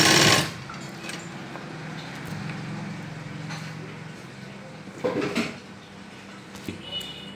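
A sewing machine runs a steady rapid stitching whir across pleats of an Afghani salwar for a child, stopping with a few clicks and fabric handling noises near the end.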